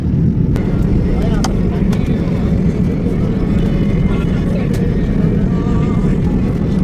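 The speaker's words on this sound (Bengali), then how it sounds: "এই যে দেখুন বিমান উড়া শুরু করেছে" Airliner taking off at night from Dammam, heard from inside the cabin as a loud, steady engine roar and rumble throughout, with a few faint clicks and cabin noises over it.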